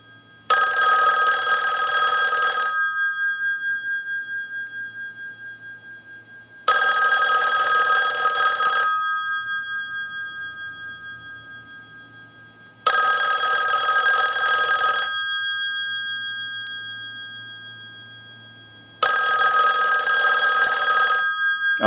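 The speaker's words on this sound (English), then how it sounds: "use the analyzer and send a ring cycle like you were getting a call" A Stromberg Carlson rotary dial wall telephone, under repair, rings its bell in four long, loud bursts of about two and a half seconds each. The bursts fall at steady intervals with quiet gaps between them, and no one speaks.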